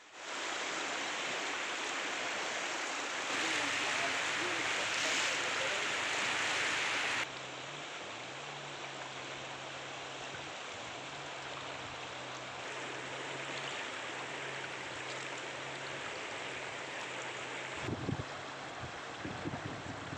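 The Batang Gadis river in Mandailing Natal runs high after flooding near a school campus, a steady broadband rush of flowing water with wind-like hiss, continuous and fairly close, no voices.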